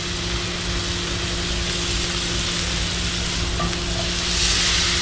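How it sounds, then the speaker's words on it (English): Onions and peppers sauté in a little oil, a steady broadband sizzle with a constant low hum underneath, rising slightly louder near the end. "I'm gonna let this saute"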